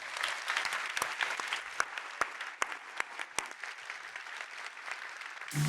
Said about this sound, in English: So a big round of applause for this panel.